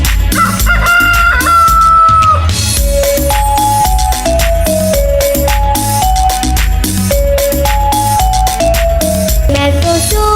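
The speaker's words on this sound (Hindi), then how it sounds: "मैं तो सो रही थी, मैं तो सो रही थी, मुझे मुर्गे ने जगाया," A rooster crows within a Hindi children's song, the cock-a-doodle-doo standing out over loud, steady music.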